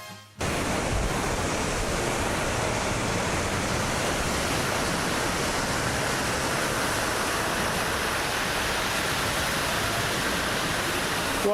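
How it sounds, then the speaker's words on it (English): Water fountain in Valencia, Spain splashing continuously and loudly, a steady broadband rush of falling water that fills the whole stretch without pause. "We'll go and have a look at this water fountain."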